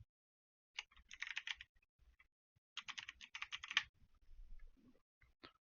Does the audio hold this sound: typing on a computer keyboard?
yes